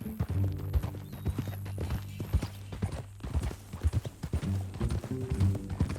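Horse hooves clip-clop at a steady walking rhythm in Red Dead Redemption 2, close and fairly loud, with a few louder hoof strikes and faint background ambience.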